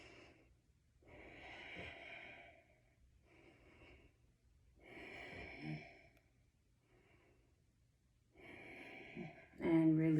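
Deep, audible breaths held in yoga bow pose: slow rhythmic inhales and exhales through the nose, close and fairly soft, repeated three times, with a brief voice at the end.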